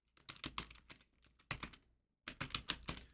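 Fingers type a short phrase on a computer keyboard in quick bursts of clicky keystrokes. The bursts are separated by brief pauses and sound close and fairly quiet.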